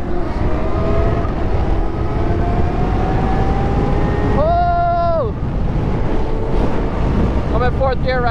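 An electric dirt bike with a clutch and gears rides in fourth gear, giving a steady whine under heavy wind rush, with tones sliding in pitch as speed changes and voices talking briefly.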